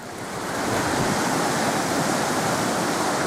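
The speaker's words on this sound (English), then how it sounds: "hopefully the river won't get any higher" Rushing river water in Denbigh the day after Storm Ciaran, a dense, steady roar of swollen flow that swells slightly at the start and then holds loud and constant throughout, with no voices.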